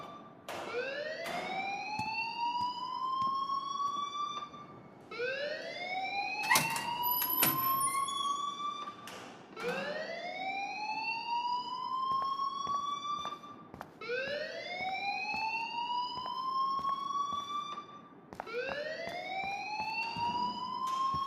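A wailing alarm in the video game Life is Strange, a repeating rising electronic sweep with rich harmonics that cycles about every five seconds. It plays loud and steady with no talk, and a few brief clatters sit alongside it.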